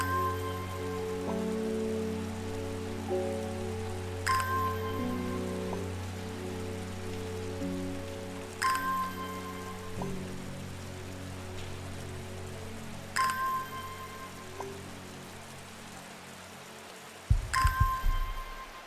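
Soft, steady rain falls in Strange Horticulture, a gentle patter heard alone beneath calm sustained music with periodic chime-like tones.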